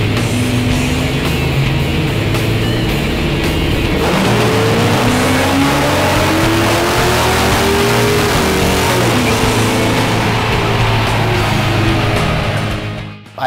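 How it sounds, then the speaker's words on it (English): Car fitted with an Edelbrock ProFlo XT complete EFI system revs loudly and steadily, its engine note climbing and sweeping in pitch across a sustained run before cutting off abruptly at the end. "I'm looking forward to hearing this car"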